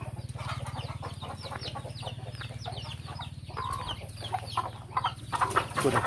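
Chickens kept at a rice mill farm, raised with ducks on mill by-products such as bran and broken rice, cluck repeatedly and close by over a steady low machine-like hum, growing busier and louder near the end.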